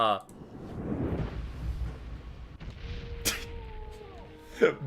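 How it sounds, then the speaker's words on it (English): A large magic-spell explosion in a video game erupts as a deep rumbling boom that swells and lingers, followed by sharper cracks and a ringing tone, heard under a voice. "Big ass fucking explosion. That's as big as you can make them."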